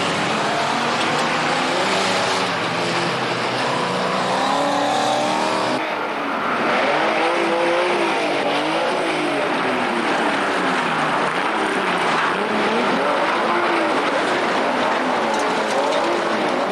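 A banger racing car's engine roars close and loud through a continuous stretch of racing, its pitch rising and falling as it revs, with rough mechanical rattle and no voices.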